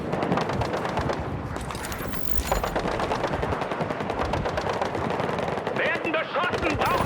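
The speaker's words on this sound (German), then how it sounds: "Werden beschossen, brauchen Unterstützung!" Battlefield 6 combat gunfire, with sustained machine-gun bursts and rapid shots, loud and continuous, while German-speaking soldier voices talk over the fighting.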